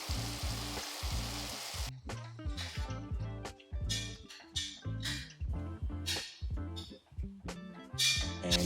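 Ground meat browns in a pan for an Italian-seasoned lasagna, giving a loud, close sizzle and fry with bursts of crackle and spatter, stirred in uneven pulses with no talking.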